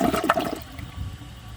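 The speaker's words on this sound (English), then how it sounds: "I really don't know how this will do, since short flushing toilets don't tend to do too well with grocery bags." A 2012 Project Source high-efficiency toilet flushes with a grocery bag in the bowl: a brief gushing rush of water that quickly fades into a softer draining swirl, close and fairly loud.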